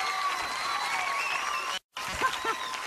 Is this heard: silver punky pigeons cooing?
no